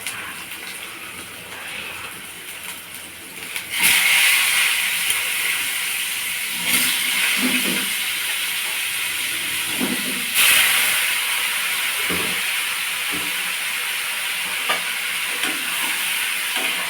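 Pointed gourd seasoned with salt, chili powder and turmeric frying in hot oil, a loud, steady hiss and sizzle that surges sharply when pieces go in and is stirred now and then.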